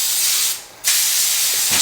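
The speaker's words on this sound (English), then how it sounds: "put a little spray in here." A cooking oil spray can sprays into foil sections in two short, close hissing bursts separated by a brief pause.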